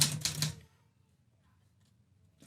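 A typewriter clatters through a quick, loud burst of several keystrokes at close range, then stops and leaves near silence; the typing is part of a comedy talk-show sketch.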